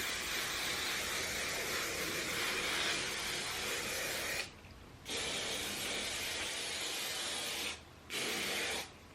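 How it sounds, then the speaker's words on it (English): Hairspray sprayed onto long, thick hair set in heatless robe curls, a close, loud continuous hiss in long bursts with two brief pauses between sprays. "As you just saw, spray your hair."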